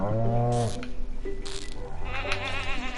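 Cows in the Stardew Valley video game give bleating, moo-like calls, a few separate cries within a short span with no talking.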